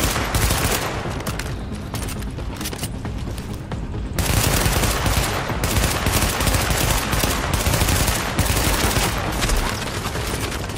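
Sustained automatic gunfire in The Division beta, a dense, loud continuous rattle of rapid shots lasting throughout with a brief shift partway, no voices over it.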